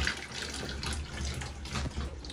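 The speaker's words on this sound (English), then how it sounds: "fill it up with water, dump it into the washer" Tap water runs steadily into a bucket in a bathtub, filling it to the line for a Costway portable washer; a continuous close broadband rush with slight surges.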